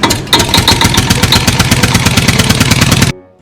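A loud engine running with a fast, even chugging pulse and rattling clatter, close by, cutting off abruptly near the end.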